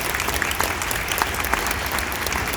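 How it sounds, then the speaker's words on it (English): An auditorium audience claps steadily in a dense, even wash of applause that holds throughout without a break. "give a wave, clap for me"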